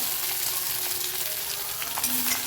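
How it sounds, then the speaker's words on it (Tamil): Shallots frying in oil for broad bean poriyal, a continuous close crackling sizzle with faint stirring sounds, steady and alone. "இப்போ நான் சின்ன வெங்காயத்தை போட்டுறேன்."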